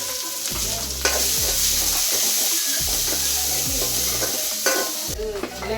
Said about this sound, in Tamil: ஒரு கடாயில் எண்ணெய் ஊற்றி கடுகு, கொஞ்சம் கருவேப்பிலை, சின்ன வெங்காயம் போட்டு நல்லா வதக்கலாம்